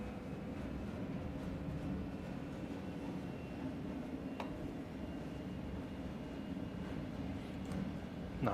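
An intermodal freight train rolls past in Train Sim World 2 on Sand Patch Grade: a steady, moderately quiet rumble of wheels and engines, continuous throughout, with no one speaking.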